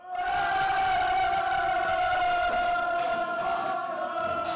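Students at a school class farewell clamour and jeer together in one loud, sustained group shout that holds steady and close, with no single voice standing out.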